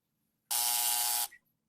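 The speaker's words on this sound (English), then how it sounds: "Try to hit a game show buzzer." A game show buzzer gives one harsh, loud electronic blast lasting under a second, alone against near silence, followed by a faint brief tail.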